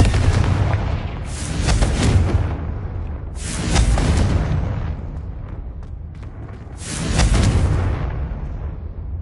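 Confringo fire spells detonating in Hogwarts Legacy, three heavy booming blasts spaced a few seconds apart, each loud and close with a long rumbling tail and no talk over them.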